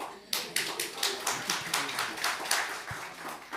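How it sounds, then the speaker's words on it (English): An audience at a family and parenting church panel breaks into dense, continuous clapping that fills the room steadily for several seconds, fairly close and moderately loud, with faint voices underneath. "Oh, you want to clap?"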